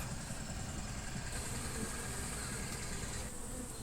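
Dense, steady buzzing of honeybees in a hive, many droning together close by while feeding on sugar water, a continuous hum with no voices.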